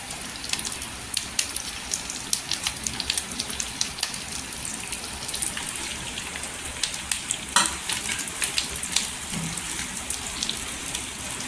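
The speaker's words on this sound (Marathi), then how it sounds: "उरलेला मसाला आहे तो टाकायचा आहे तेलामध्ये" Leftover masala for stuffed green chillies hits hot oil in a pan, giving a steady crackling sizzle with frequent sharp pops and occasional stirring, close and loud, no voices.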